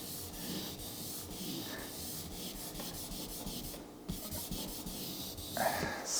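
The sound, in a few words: sanding and polishing paint on a 2018 Ford Raptor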